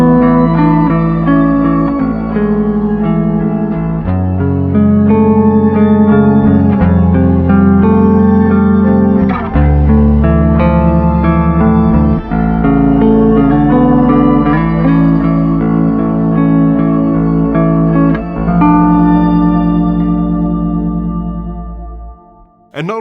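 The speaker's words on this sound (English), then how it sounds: "Here's a shimmer reverb and a chorus." A bass guitar is played through a Boss ME-90B multi-effects pedal set to shimmer reverb and chorus, giving loud sustained notes with a wide, washy, shimmering tail that swells and rings out at the end.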